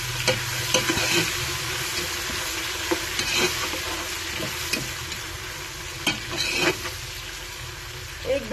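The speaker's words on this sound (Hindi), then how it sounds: "प्याज को ब्राउन होने तक फ्राई करेंगे हम।" Onions with ginger garlic paste frying in a pan for beef yakhni, a steady close sizzle with occasional spoon scrapes and clinks as the mixture is stirred.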